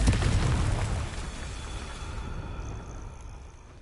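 A Confringo fire spell bursts with a loud explosive boom in Hogwarts Legacy, opening with a heavy low blast that rumbles and slowly decays over several seconds.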